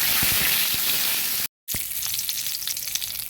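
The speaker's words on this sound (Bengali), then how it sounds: "তেল গরম হয়েছে দিয়ে দিলাম শুকনো লঙ্কা আর তেজপাতা" Dried red chillies and bay leaves sizzling in hot oil, a loud hissing fry with crackling spatter, cut by a brief silent gap before the sizzle resumes, quieter and popping.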